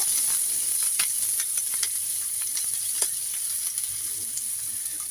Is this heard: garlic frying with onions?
yes